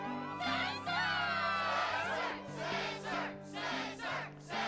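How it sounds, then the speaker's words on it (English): A video game arena crowd from Kingdom Hearts 2 cheers and shouts in loud, surging waves over a steady musical backdrop, with no clear spoken voices standing out. "the crowd is fired up, so you know what comes next"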